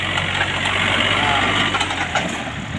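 A used Japanese walk-behind tractor's engine idles steadily up close, a continuous low mechanical drone with someone talking over it.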